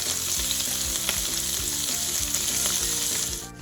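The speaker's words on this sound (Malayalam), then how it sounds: "ഇനി നമുക്കിത് ചിക്കൻ ബട്ടറിലേക്ക് ഇട്ട് കൊടുക്കാം." Chicken pieces fry in butter in a pan, giving a loud, steady sizzle and crackle from start to finish.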